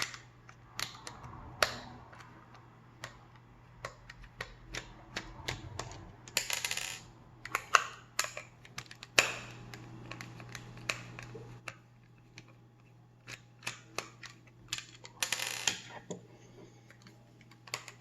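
Screwdriver working on a Mitel telephone handset being taken apart, with many sharp close clicks, taps and plastic rattles in an uneven rhythm over a low hum.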